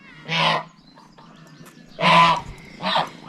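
Geese honk in three loud, separate bursts close by, with quiet gaps and faint background noise between calls.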